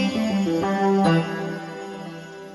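A sitar preset layered over a Force Lead synth on an MPC plays a short melodic phrase of plucked, twangy notes with sustained harmonic tones, close and alone without talk.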